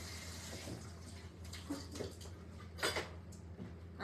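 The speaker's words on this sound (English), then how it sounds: "Wash my hands." Hands being washed under a running kitchen tap, a faint, steady splash of water with soft clinks and scrapes of dishes nearby.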